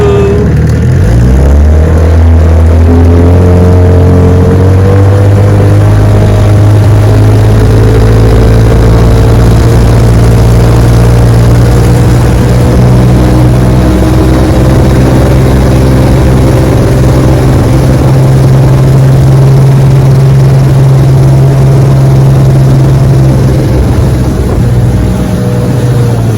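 A vintage 9.5 hp outboard boat motor runs steadily and loudly throughout, its droning engine hum holding a constant pitch with a slight rise early on, alone with no talk.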